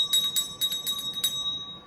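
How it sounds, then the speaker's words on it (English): A bell rung during a storytime reading, giving several bright, clear strikes in quick succession with a sustained ringing tone that lingers and fades, fairly close and alone without talk. "without further ado, ring our bell."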